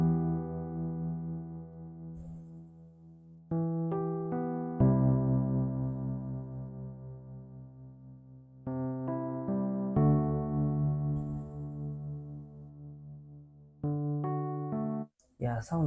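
A synth bass line plays sustained chord tones under a piano-like R&B beat built in FL Studio, with clear rhythmic sections separated by short breaks and a steady, fairly loud level throughout, no voices.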